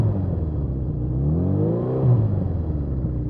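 A 1981 Suzuki GS650GL motorcycle engine revs up close, its pitch climbing and falling in a smooth sweep over a steady mechanical whir, with no talking.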